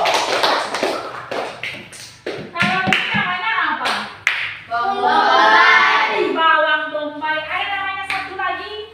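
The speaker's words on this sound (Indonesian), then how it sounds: "Kasih tepuk tangan lagi yang mania untuk siswa ibu." Students in a classroom clap in a rhythmic, patterned burst of close, loud hand claps, mixed with taps and children's voices, and a voice speaks over the end of the applause.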